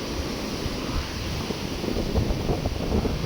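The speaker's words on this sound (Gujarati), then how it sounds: "ધોધમાર ધુવાધાર" Torrential unseasonal rain driven by strong wind at night in Chobari village, Kutch, makes a dense, unbroken roar with gusty surges and no voices.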